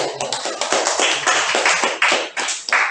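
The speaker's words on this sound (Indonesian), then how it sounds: "mari kita berikan tepuk tangan" Classroom group applause for a presenting group of students: close, fairly loud clapping from a small crowd, brisk and uneven with distinct individual hand strikes over three seconds.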